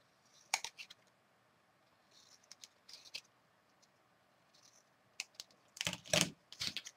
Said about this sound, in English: And I'm going to trim it also.